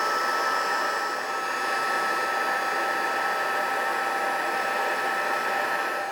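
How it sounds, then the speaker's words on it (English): A heat embossing tool blows a continuous, even whirring hiss at close range, melting embossing powder on a stamped paper card. It holds steady throughout with no talk. "Next we have our handy dandy heat emboss tool"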